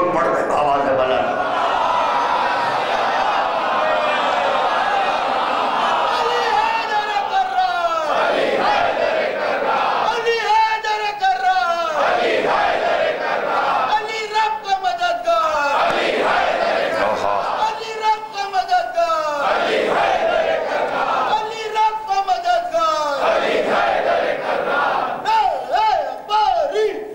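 A large crowd loudly recites the durood blessing in unison, with repeated rhythmic swells of chanting voices that rise and fall in a steady pattern.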